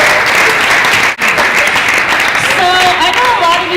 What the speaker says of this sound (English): Round of applause for my husband.